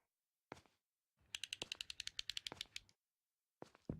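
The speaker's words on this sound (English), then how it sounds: "Maybe it's that box cutter is what I'm hearing clicking" Rapid burst of about a dozen sharp mechanical clicks from a box cutter blade being slid in the horror game Home Sweet Home, close and dry, framed by brief softer knocks before and after in a quiet room.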